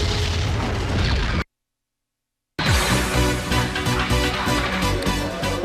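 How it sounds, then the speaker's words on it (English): Explosions boom and crackle in a military PlayStation game by Pandemic, dense loud bursts that cut out briefly to silence before another heavy blast sequence with rumbling debris. "the fire and smoke effects and the explosions, which are so important to a military game"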